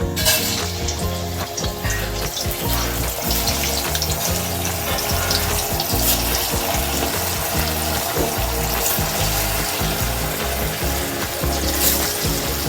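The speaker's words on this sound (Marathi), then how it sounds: "आता हे तेल टाकलं आहे, तर आपण एक एक अरबी फ्राय करून घेऊया." Taro (arbi) pieces deep fry one by one in hot oil, a steady, dense, loud sizzle and bubbling that runs unbroken the whole time, with no talking.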